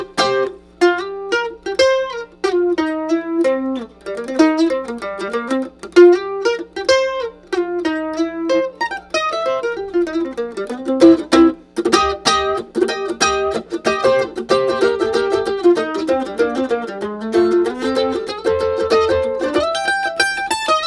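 Mandolin run through an overdrive pedal for added dirt plays a fast, busy solo of bright picked notes and tremolo runs, loud and continuous over a low steady drone.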